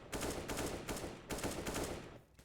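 Shotgun fire from the video game CS:GO comes in several heavy blasts in quick succession, each booming report loud and close, with brief gaps between them.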